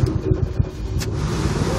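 A low-mileage 1995 Chevrolet Camaro engine starts and settles into a steady, smooth idle, heard up close and loud with no talk.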